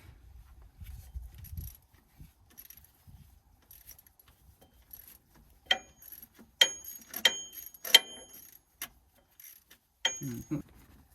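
A ratchet wrench clicks in a garage workshop while an AC pump is being installed on a vehicle. Bursts of quick light metallic ticking come up close, with softer handling noises and pauses between them.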